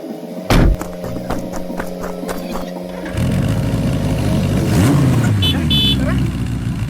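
A motorcycle engine idles and then revs up loudly nearby, its pitch rising and falling, with a voice heard briefly over it.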